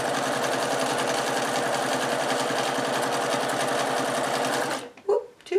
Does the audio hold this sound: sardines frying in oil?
no